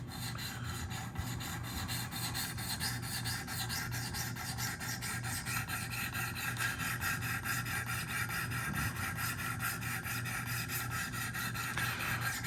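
An S90V steel Spyderco Shaman knife blade is drawn over Wicked Edge sharpening stones in a fast, steady, close rasping rhythm of strokes that carries on without a break and without talk.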